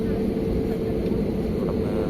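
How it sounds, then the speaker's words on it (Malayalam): A SriLankan Airlines airliner rolls slowly down the runway at the start of its takeoff, its engines giving a steady, deep, unbroken drone throughout. "അതെ, പതിയെ എടുക്കുകയാണ് ഫ്ലൈറ്റ്."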